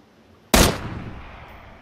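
A single loud gunshot in the battle royale game PUBG, sudden and sharp after near silence, followed by a long fading echo.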